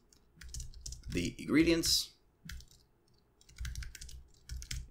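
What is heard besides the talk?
typing on a computer keyboard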